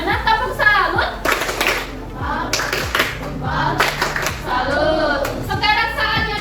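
A class of schoolchildren in an economics lesson performs a clapping salute. Bursts of rhythmic group handclaps ring out close by, mixed with lively children's voices and an adult speaking.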